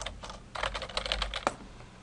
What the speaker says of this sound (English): And we can do some typing, just random typing,